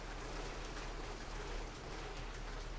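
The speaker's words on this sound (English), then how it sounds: "Gonna get a little rain shower coming in." Steady rain shower in a tank video game, a faint, even hiss of falling rain running throughout without pause.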